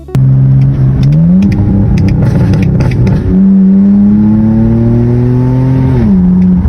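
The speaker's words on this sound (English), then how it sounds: "it was a straight 6 with no turbo. It sounded like a beast because I had a muffler delete." BMW naturally aspirated straight-six with a muffler delete, revving hard: loud, raw engine note climbing and falling through several sustained rev sweeps, close and alone with no talk.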